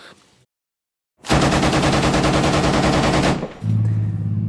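A 7.62 mm machine gun on an M2 Bradley fighting vehicle fires one sustained, loud, rapid burst of about two seconds after a brief silence, followed by a low engine rumble.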